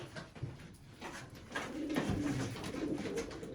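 Pigeons in a loft cooing steadily at close range, low rolling coos repeating through the whole stretch with no voices over them.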